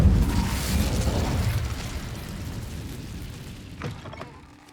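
An Incendio fire spell in Hogwarts Legacy bursts out as a loud whooshing blast that slowly fades, and a small crackle comes near the end.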